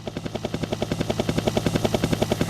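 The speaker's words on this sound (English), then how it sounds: "Alice had just boarded a helicopter and was leaving Gerald for the 34th time" Helicopter rotor in an audio drama scene, a steady rapid chopping thump with a low engine drone, fairly loud and close, with no voices.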